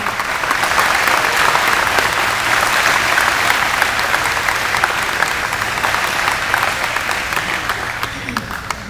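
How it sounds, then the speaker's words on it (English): A round of applause from an event audience in Rosebud, loud sustained clapping that stays full and steady throughout, with faint voices underneath. "Another round of applause and say thank you."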